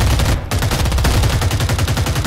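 Rapid automatic gunfire in the tactical shooter Super Tactical Search and Destroy, a loud, dense burst of shots hammering continuously with only a momentary break near the start.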